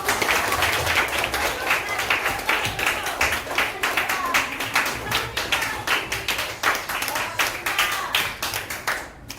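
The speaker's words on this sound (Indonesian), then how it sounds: "Tepuk tangan dulu" Classroom of pupils clapping hands together during a Quran recitation lesson, a dense run of quick overlapping claps lasting several seconds, fairly close and steady, with no talking.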